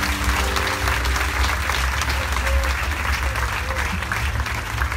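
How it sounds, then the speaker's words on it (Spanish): An outdoor concert crowd applauds loudly in a continuous wash of clapping over a deep, steady musical rumble, with scattered voices and cheers mixed in throughout. "Les aplauso más fuerte"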